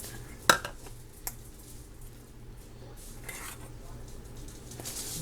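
Utensil clinking against a bowl as flour is mixed into canned salmon fritter batter, with a sharp clink near the start and another later, then soft scraping and stirring.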